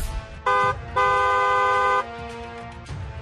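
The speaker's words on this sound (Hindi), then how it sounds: "और हॉर्न बजाएं।" Car horn honks twice, a short blast then a longer one of about a second, loud and close with a bright tonal blare over low street rumble.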